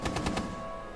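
A light machine gun in Rainbow Six Siege fires a quick burst of about four loud close shots, then falls silent.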